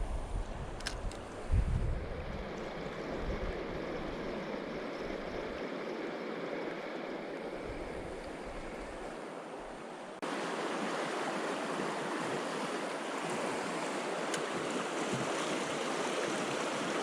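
River rapids on the Blacksmith Fork River rush in a steady, broad wash of flowing water, continuous and moderately close throughout, with faint wind on the microphone.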